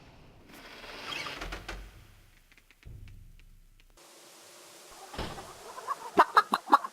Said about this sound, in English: Charming old rooster.